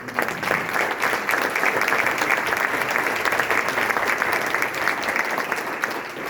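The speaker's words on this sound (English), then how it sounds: "Give Will a round of applause." An audience at a keynote introduction gives a round of applause for Will, a full, steady clapping that carries evenly for several seconds without any talk over it.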